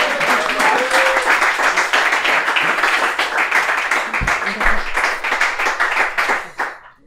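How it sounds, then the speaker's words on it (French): An audience applauds a guest on a French-language running podcast episode, sustained dense clapping at steady volume that carries on for several seconds before cutting off abruptly near the end. "On applaudit Hubal"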